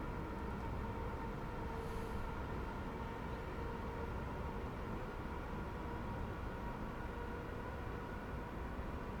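A train runs on the WCML South cargo line in Train Sim World 5, giving a continuous faint rumble and rolling wheel noise at an even level with no voices.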